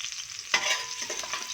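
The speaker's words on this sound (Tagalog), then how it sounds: "Higisa natin siya sa mantika." Bopis with chili, onion, garlic and carrots hitting hot cooking oil in a pan, a sudden loud sizzle bursting up after a quiet start and continuing as a steady hiss with stirring.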